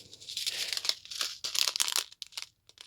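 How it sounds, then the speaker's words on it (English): Plastic diamond painting drill bags, already sorted and separated, crinkle and rustle in a steady handled stream, with a few lighter crackles trailing off at the end; no voices. "Not too much crinkling when they've all been separated, huh?"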